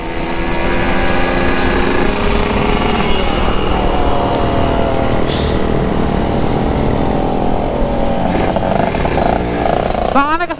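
Motorcycle engine revved hard and held at high throttle, a loud, continuous buzzing roar close by with slight pitch shifts, filling the whole stretch without pause.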